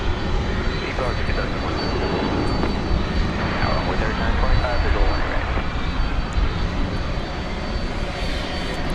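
A plane's engine roars at DFW Airport at night as the aircraft is pushed back by a tug, a loud, steady broadband rumble filling the whole stretch with faint voices blending in underneath.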